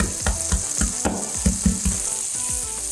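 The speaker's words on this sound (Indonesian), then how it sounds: "kita aduk sampai wangi" Spices frying in a pan and stirred until fragrant, a loud, close sizzle with rhythmic scraping stirs roughly every quarter second.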